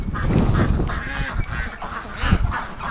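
Geese and ducks in a farmyard pen honk and call repeatedly in a close, overlapping chorus of uneven bursts, with no talking.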